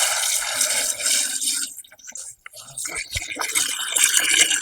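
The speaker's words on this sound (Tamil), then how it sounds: "முட்டை அடிக்காச்சு, தண்ணி ஊத்தலாம்." Water is poured into a pot of eggs set up for boiling, a close, splashy hissing pour that breaks off briefly midway and then resumes more fully.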